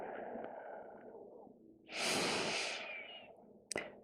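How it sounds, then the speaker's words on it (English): Slow, deep breathing during a relaxation flow session: a long soft exhale, then a louder drawn-out breath and a brief sharp sniff near the end, close and alone. "Starting to elongate our inhales and elongate our exhales."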